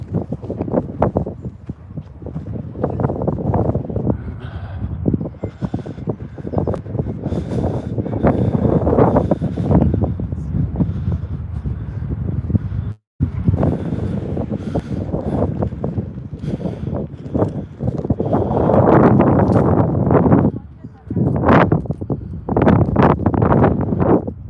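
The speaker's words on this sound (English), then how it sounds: "The wind, son, eh? It's hard when you're at the top of a hill." Strong wind buffeting the microphone on top of Calton Hill in Edinburgh, loud rumbling gusts rising and falling nearly throughout, with one brief dropout midway.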